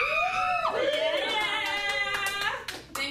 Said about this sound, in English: Thanks for cheering every time I say bachelor party.